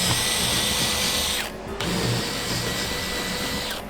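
A power drill with a 3/16-inch bit whirs steadily at close range, its motor tone briefly dipping mid-way as if pressing into material, then running on, while assembling a quarter pipe ramp.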